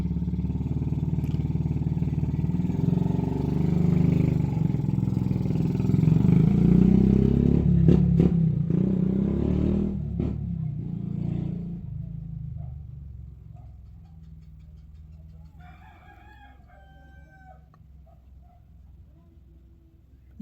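A motorcycle engine rumbles loudly nearby as it arrives after a school drop-off, idling and revving with some clatter before the sound fades to a quiet background toward the end.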